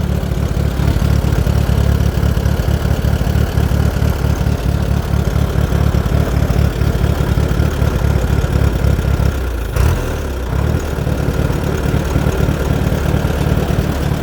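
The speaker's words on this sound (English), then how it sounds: "that's a nice tractor" A large Allis-Chalmers D-14 tractor engine idles steadily close by, a low rumbling throb with a brief dip and catch near the end.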